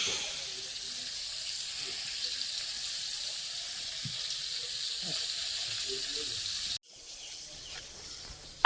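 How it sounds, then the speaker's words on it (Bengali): Fish fries in a hot pan with a steady, close sizzle and crackle that runs for several seconds before cutting off abruptly. "এটা মাছ ভাজছো?"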